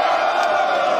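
Crowd at a Brazilian freestyle rap battle roaring and shouting in a sustained, loud burst of cheering, steady for about a second with no spoken words.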